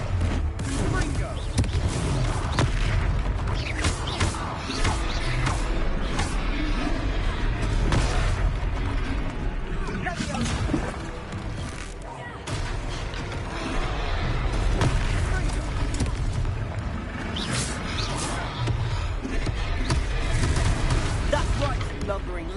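Repeated Confringo blasting spells in the Hogwarts Legacy game, a dense stretch of booming impacts and crackling bursts layered with combat effects and voices throughout.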